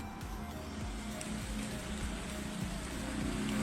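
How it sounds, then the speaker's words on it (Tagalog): Heavy rain falls steadily outdoors, a dense, even hiss with faint low thumps beneath, continuous and fairly quiet throughout. "Dito pusog-pusog pud ulan na."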